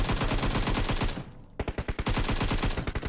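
Rapid automatic gunfire from the battle royale game PUBG, two dense bursts of close, loud shots separated by a brief pause.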